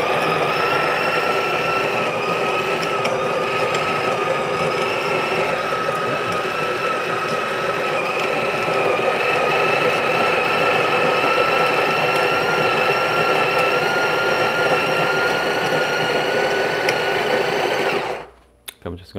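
Breville Barista Pro espresso machine pulling a 21 gram shot through an aftermarket filter basket, a steady loud pump drone with a tonal whine that runs unbroken, then cuts off abruptly near the end.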